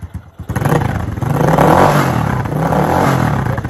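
Tao Motors T-force ATV engine starting, a brief cranking clatter that catches and rises into a loud, steady, rough engine roar close to the microphone.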